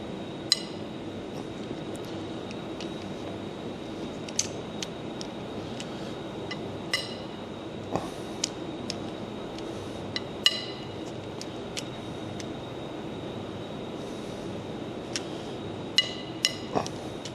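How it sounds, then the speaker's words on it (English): Sharp metallic clinks and ratcheting clicks ring out at irregular intervals as a breaker bar loosens cylinder head bolts on a tractor engine, fairly quiet over a faint background hum and a steady high whine. "we've slackened them all off with the breaker bar"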